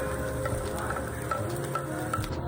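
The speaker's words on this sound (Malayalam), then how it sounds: "പാനിലേക്ക് വെളിച്ചെണ്ണ ഒഴിച്ച് കടുകും കറിവേപ്പിലയും അതുപോലെ തന്നെ ചുമന്ന മുളകൊക്കെ ഇട്ട് പിന്നെ കുറച്ച് സവാള ഇട്ട് നന്നായിട്ടൊന്ന് വഴറ്റി കൊടുത്തു" Onion, mustard seeds, curry leaves and red chilli sauté in coconut oil in a pan, making a steady, dense sizzle with faint stirring knocks and no talking.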